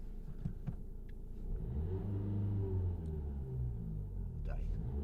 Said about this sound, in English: So Red's got to rev it.